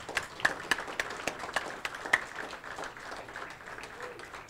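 An audience at a Brockton Democratic City Committee gathering applauds Senate President Stan Rosenberg: a steady patter of many hands, moderately loud, with a few sharper individual claps over the round.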